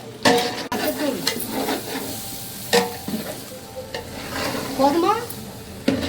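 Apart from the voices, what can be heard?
stirring veg biryani in a pot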